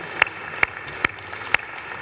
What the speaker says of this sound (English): Give each of you a round of applause.